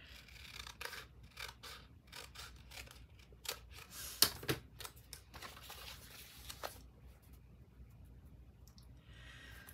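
Scissors snip through crochet thread in a few quiet, crisp cuts, with soft rustling and handling of the yarn in between, close up and without talk.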